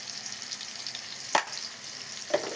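A curry with coriander paste, coconut and lentil powder stirred in a pan over a soft continuous sizzle, with two sharp spatula knocks against the pan.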